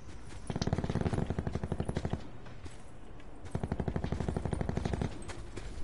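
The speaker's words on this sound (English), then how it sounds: "someone's shooting me" Video game gunfire in a Blackout Quads battle royale match: two sustained bursts of rapid automatic shots, each lasting about a second and a half, with a short pause between them and a quieter tail.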